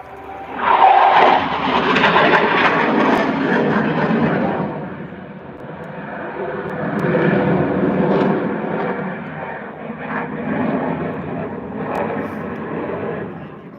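A military jet pulls straight up into an Immelmann climb at an air show, its engine roar loud at first and then fading into a sustained rumbling drone that rises and falls in the open air.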